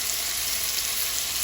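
Steak searing in plenty of very hot oil in an oven-safe pan, a dense, even hiss of sizzling held steadily close up, no talk.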